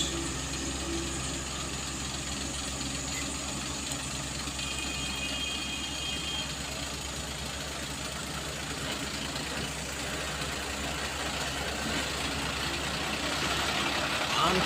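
A truck engine labours steadily up the steep Kedabuhan incline in heavy rain, droning loud and continuous under a constant wash of rain, with faint voices in the cab.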